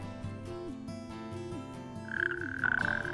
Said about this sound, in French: Le crapaud peut nous sembler laid, mais n'en est pas moins digne d'intérêt.